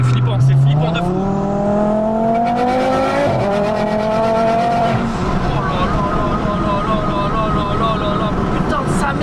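A 1000 hp Volkswagen Golf 7R accelerates hard under turbo boost, its loud engine note climbing steeply before a gear change and then pulling on with a roaring, rasping drone, heard close from inside with voices in the cabin.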